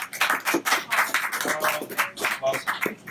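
Audience members at a book launch in a San Francisco bar and museum give brief, uneven applause, with separate claps rising and falling in small bursts at close range under light talk.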